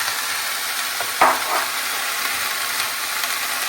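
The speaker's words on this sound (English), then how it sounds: "Now we're going to go ahead and let that saute down." Red peppers sautéing in a hot pan make a steady hiss, with a single sharp scrape of a utensil partway through and a softer stir just after.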